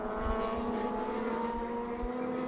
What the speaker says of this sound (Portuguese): Rende bem a moto do Tripinha no trecho sinuoso